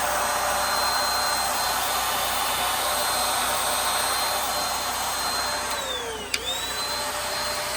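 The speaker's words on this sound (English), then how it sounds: "This is the greatest vacuum you can buy." A cordless handheld vacuum cleaner, the kind sold in DeWalt and Milwaukee versions, runs steadily and loudly throughout, with a brief sharp suck-and-click near the end as it pulls a fly off a surface inside an RV.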